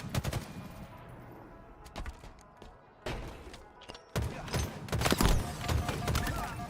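Halo gunfire during an HCS Worlds 2025 esports match, sharp repeated shots and bursts at varying distances, building into heavier firing toward the end.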